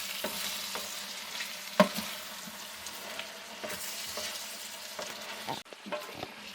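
Onions and chopped hot peppers sizzle in a pan for lecho while being stirred, giving a continuous close frying hiss. Utensils knock and scrape through it, with one sharp clank partway and a louder burst near the end.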